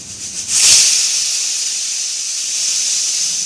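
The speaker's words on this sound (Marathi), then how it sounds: "कुकरचं झाकण लावून द्यायचं आहे आणि याला दोन किंवा तीन शिट्ट्या काढून घ्यायच्या आहे" A pressure cooker full of bitter gourd curry vents steam: a sudden, loud, sustained hiss that swells in the first second and then holds steady to the end.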